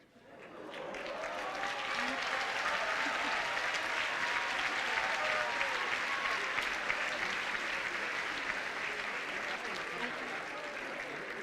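An audience applauds at the 2018 closing ceremony of Brentwood College School, with loud, dense, sustained clapping across the hall and a voice speaking faintly beneath it.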